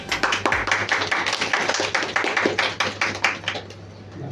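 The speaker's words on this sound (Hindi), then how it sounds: "आप सब तालियां बजाकर प्रोत्साहित कीजिए" Clapping from a church Sunday School programme audience, a close, loud run of fairly rhythmic hand claps with no talk over it, tapering slightly near the end.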